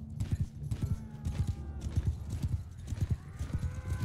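Cavalry horses gallop in a Mount and Blade Bannerlord battle, their hooves thudding in fast, uneven clusters at moderate loudness with a faint whinny.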